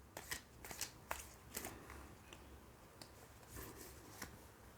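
Tarot cards are shuffled in a quiet room, giving a series of soft, sharp riffling snaps and flicks in irregular bursts, close by and faint.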